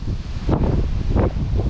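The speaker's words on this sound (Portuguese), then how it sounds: "Nossa, gente, desculpa o vento, sério." Strong wind blows across a lakeside spot during carp fishing, a loud continuous rushing roar with gusts swelling and easing, with no voices.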